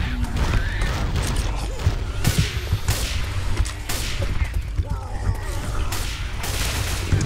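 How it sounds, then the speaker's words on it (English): Sniper rifle fire in Left 4 Dead 2, a rapid series of sharp shots and impacts over dense in-game combat noise, loud and continuous. "Some sick headshots off the sniper rifle."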